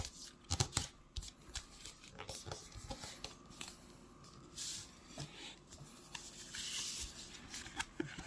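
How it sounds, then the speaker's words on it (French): Paper being creased and folded by hand for an origami box: close, soft rustling and crinkling with sharp little scrapes as the fold is pressed and rolled along, fairly quiet and uneven. "Je marque le pli, je le fais rouler tranquillement ici."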